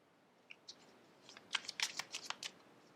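Tarot cards being shuffled and handled during a card reading, with faint soft riffles and light flicks of cardstock that cluster into a quick flurry in a quiet room.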